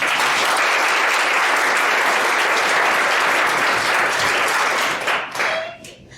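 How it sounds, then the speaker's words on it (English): A conference audience applauds a speaker at a Java user group talk, a loud, sustained wash of clapping that tapers off near the end as a voice begins. "everybody give a big round of applause for Venkat"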